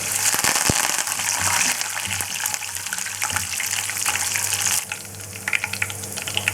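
Curry leaves and crushed garlic frying in hot oil give a loud, steady crackling sizzle. Sharp pops come at the start, and the hiss drops slightly partway through before continuing with scattered spits.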